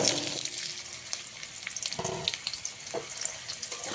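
Diced potatoes hiss and sizzle in hot oil seasoned with bay leaves and cumin, a steady close frying crackle with a few clinks and stirring sounds.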